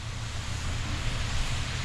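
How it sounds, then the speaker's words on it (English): Noccalula Falls waterfall in a wooded park in Gadsden, Alabama, roars as a steady broadband rush of falling water, constant and full throughout, with no voices. "This is the waterfall, and it is a beauty."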